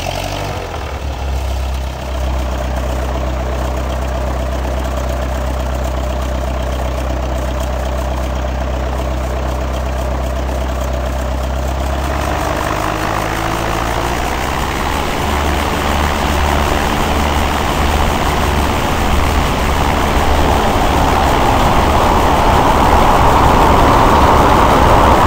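A simulated light aircraft engine in Microsoft Flight Simulator X, set for mountain flying, runs steadily and loud for the whole stretch, with a low droning idle that shifts in tone partway through. No one talks over it.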